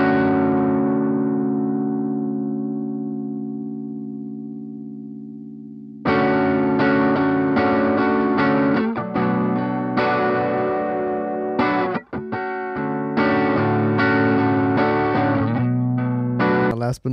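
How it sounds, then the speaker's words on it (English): Electric guitar with a wavering vibrato effect: a long ringing chord fades out, then a run of strummed and picked notes with pulsing pitch wobble. "So now I'm going to play that vibrato one."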